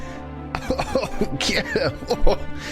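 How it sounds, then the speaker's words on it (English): Several short, harsh coughs mixed with throat clearing and voiced sounds, close by, with speech-like noises woven between them. "He starts coughing and he waves it out of the way."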